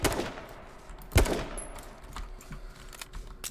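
Gunfire in an online battle-royale video game, heard as one loud sharp shot followed by several fainter, scattered distant shots over steady background game ambience.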